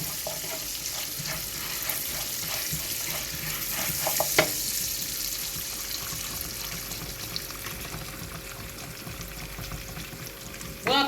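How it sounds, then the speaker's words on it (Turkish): Kesme makarna vermicelli toasting in a pan for yayla soup, a soft steady sizzle with light stirring scrapes and a few louder clicks, fairly quiet and without talk. "şu şehriyeyi kavuruyoruz ya şimdi kesme şehriyemiz diyelim artık"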